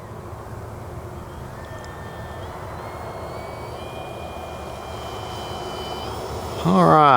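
A Kavan Pilatus PC-6 Porter RC plane flies overhead with a steady droning engine tone that slowly changes pitch and grows louder toward the end, where a closer, rising whine takes over.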